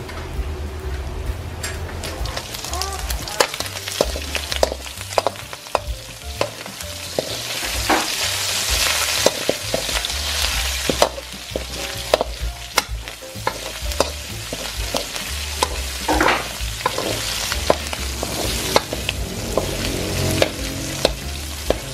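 Pork sizzles and crackles steadily in a pan as its fat renders out, a dense, loud frying hiss with frequent sharp pops and occasional stirring scrapes, no voices over it.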